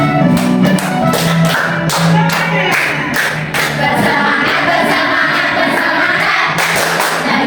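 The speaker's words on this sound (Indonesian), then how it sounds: "Karena ini namanya tepuk janji fokus." A classroom group performs the tepuk janji fokus clapping chant, with loud, rhythmic claps and taps beating in a steady pattern under continuous group voices.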